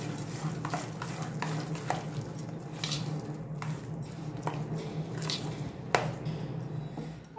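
Leftover rice batter is stirred with lemon juice and finely chopped coriander, giving repeated wet squishing scrapes of a spoon against a bowl, close and rhythmic, over a low steady hum.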